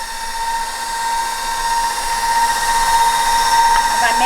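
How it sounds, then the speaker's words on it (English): An electric mixer runs on low while mixing keto buttermilk bread dough, giving a steady loud motor whine with a constant tonal hum that grows slightly louder throughout, heard up close. "I've got my mixer on low."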